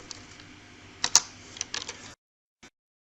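Keys clatter on a computer keyboard as commands go into a terminal, a run of quick irregular clicks with a few louder taps, then a pause and one last keystroke, close and with no talk.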